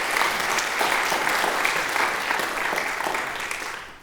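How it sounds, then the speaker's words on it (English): A lecture audience gives a full round of applause welcoming a speaker on protein-production machinery in human cells. The clapping is dense and steady for about four seconds, then eases off slightly at the end. "Please welcome him with a huge round of applause."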